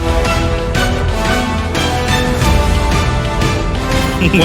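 Loud, driving orchestral battle music from Final Fantasy VII Rebirth with pounding percussion and dense layered instruments, intense and dramatic, playing continuously without any talking.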